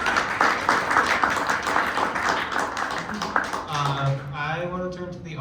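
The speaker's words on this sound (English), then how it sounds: "Can we have a round of applause for the elders?" An audience claps for the elders at an affordable housing panel: a steady patter of applause that thins out as a voice comes in over it.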